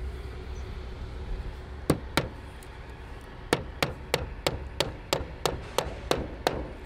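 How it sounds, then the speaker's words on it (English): A nail is hammered by hand: two sharp strikes, a pause, then a steady run of about ten evenly spaced, ringing blows, close and clear over quiet room tone. "I've also brought a hammer and nail for you to try it the old-fashioned way"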